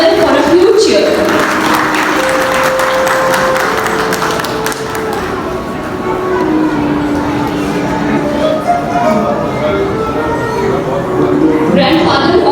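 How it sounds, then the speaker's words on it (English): An audience at a college annual investiture ceremony claps and cheers continuously, a dense, loud wash of hands and raised voices sustained across the whole stretch. "Please put your hands together for a huge cheer."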